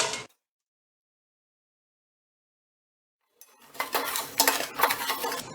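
Dried chillies are dry-roasted in a pan with a ladle. A brief clatter is followed by a few seconds of silence, then a run of loud, close metallic scraping and clinking as the ladle turns them.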